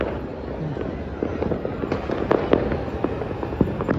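Scattered firecracker pops and cracks go off during Makar Sankranti festivities in Ahmedabad, mixed with a busy crowd murmur and voices talking nearby.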